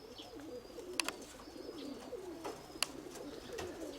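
Pigeons coo repeatedly in soft, throaty calls nearby, with a few sharp clapping sounds breaking through the steady murmur.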